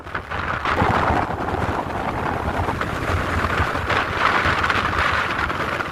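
Strong wind buffets a mountainside, a loud continuous roaring rush with gusty swells and heavy low rumble against the microphone, steady from start to finish with no voices.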